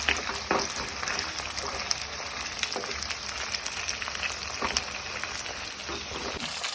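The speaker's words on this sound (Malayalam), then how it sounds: "ഇടയ്ക്കിടയ്ക്ക് നമുക്ക് ആ ബീഫൊന്ന് ഇളക്കി കൊടുക്കാം." Beef sizzles steadily in a hot pan, with occasional sharp scraping clicks as it is stirred; no one speaks.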